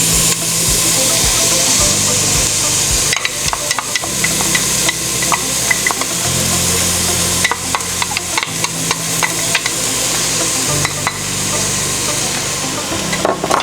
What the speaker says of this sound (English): let's go ahead and put our onions in here